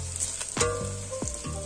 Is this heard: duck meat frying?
yes